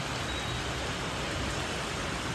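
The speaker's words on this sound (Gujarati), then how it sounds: "જો આ બાજુ તમને હું વરસાદ બતાવું." Continuous heavy rain pours down in Surat, a constant dense hiss of falling water with no pauses.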